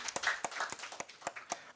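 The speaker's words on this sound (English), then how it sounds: "We clap for ourselves." A room full of colleagues at a Ugandan working-group annual dialogue breaks into scattered, brisk clapping, sharp individual claps repeating unevenly for a couple of seconds with no talk over them.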